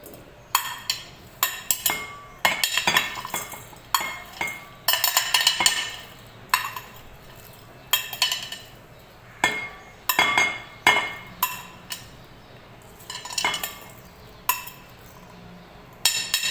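Yogurt salad ingredients tipped into a bowl, with a long series of bright clinks and knocks from a spoon and containers striking the bowl, close by and irregular, separated by short quiet gaps.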